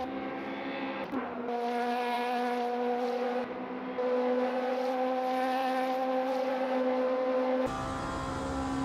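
Race car in Le Mans Ultimate running at steady high revs, a sustained engine drone with stable harmonics and a brief shift or dip early on, no voices.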